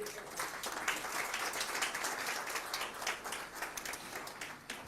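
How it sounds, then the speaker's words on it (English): Audience applause at a climate finance conference lunch session after a minister's speech: a quiet, continuous patter of many hands clapping at a distance, steady for the whole stretch. "You can keep clapping"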